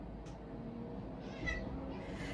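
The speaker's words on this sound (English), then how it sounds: "When he thinks I'm on the phone, he meows because he doesn't like me talking to other people" A pet cat meowing softly indoors, faint and somewhat distant, with a couple of short mews over a low room hum and no clear speech.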